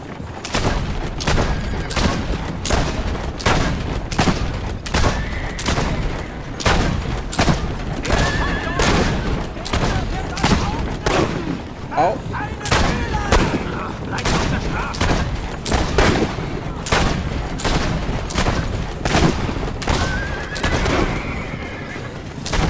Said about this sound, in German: Ich wusste gar nicht, dass Assassin's Creed so ein Ballerspiel ist.